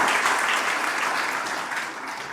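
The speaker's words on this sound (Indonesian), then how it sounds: "Beri tepuk tangan dulu buat Tuhan Yesus." A church congregation at a GBI worship service in Batam claps together for Jesus, a full, dense burst of applause from many hands, loud at first and slowly tapering over a couple of seconds.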